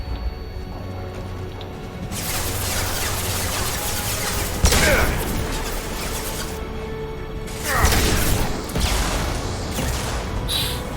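Flashbang grenades go off amid a dense, continuous rattle of combat in Mass Effect 2, with loud bursts standing out around the middle and later, all noisy and sustained without a break.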